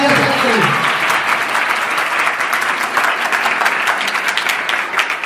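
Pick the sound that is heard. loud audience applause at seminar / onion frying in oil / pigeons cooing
loud audience applause at seminar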